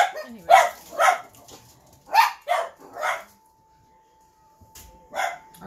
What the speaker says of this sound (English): Our ferocious little puppies.